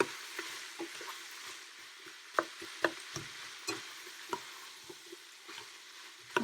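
Onions and other vegetables sautéing in a pan give a steady, close sizzle, broken by soft taps and scrapes of stirring at an uneven rhythm, with no talking.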